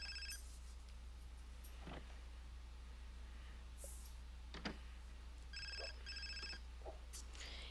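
A faint electronic phone rings in The Sims 4. Two short bursts of ringing, near the start and again later, sit over a quiet steady game background hum with scattered soft clicks.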